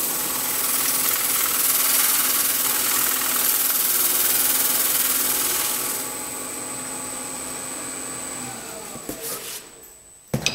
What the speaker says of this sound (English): that is all you need to do a little bit of burnishing